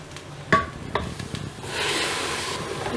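Tomato added to a frying spiced masala for chicken curry in a Nutripot, a sharp clatter as it drops in, brief scraping stirs, then a rising steady sizzle close by.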